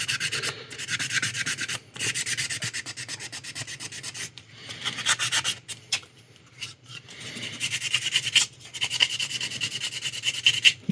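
Sanding on a 1/60 NeoGrade Sazabi plastic model kit, close and fairly quiet, a repeated rough rubbing in bursts of strokes with short pauses between them.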